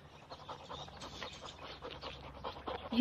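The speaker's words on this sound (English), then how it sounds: "You like my dog? It's very big, yes." A large dog pants in steady rapid breaths, close and moderately loud, with a slightly louder burst at the very end and no talking.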